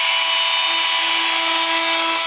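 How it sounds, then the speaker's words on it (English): A regular drill bit bores steadily through tile backer board, a continuous high, even whine with a rasping edge that holds without pause from start to finish. "to cut the square round holes I will just use the regular drill bit"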